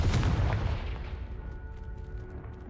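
Confringo spell explosion in the video game Hogwarts Legacy: a loud, close booming blast that opens the clip with heavy low rumble, then trails off into a fading roar.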